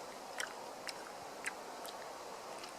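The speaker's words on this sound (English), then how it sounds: "Trying to get the suckers between your teeth there and crunch down on them." Someone bites and chews a crunchy snack, the small sharp crunches coming close to the mic at irregular intervals over a steady background hiss.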